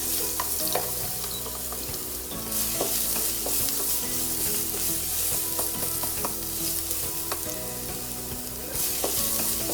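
Chopped garlic sautéing in a pan before ginger and chili go in, a close, steady sizzle and hiss with repeated scraping stirs of a utensil and no talking.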